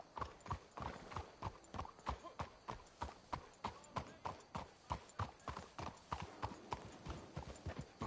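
Horses clip-clopping along at a steady walk in the video game Red Dead Redemption 2, a regular rhythm of hoof strikes, fairly close and faint, with a muffled voice or two in the background.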